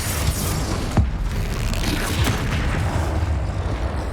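Expelliarmus spell cast during Hogwarts Legacy combat: a sharp, booming burst near the one-second mark stands out over a continuous, dense rumble of game action.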